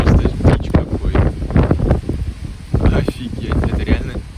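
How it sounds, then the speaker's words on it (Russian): Strong stormy wind buffets the microphone outdoors in Prague in loud, continuous gusts, with deep rumbling blasts and rustling throughout. "Фиг там, это ветер, он просто дичь какой"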